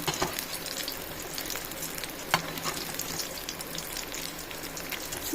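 Sukiyam snacks with a filling deep-frying in hot oil, a close, continuous bubbling sizzle with scattered crackles and one sharp tap midway, no speech.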